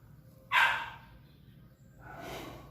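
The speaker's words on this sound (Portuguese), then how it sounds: "O cachorrinho tá nervoso." A small, agitated dog gives one sharp bark near the start, then a softer second bark or yip follows a moment later, both fairly close, with a low hum underneath.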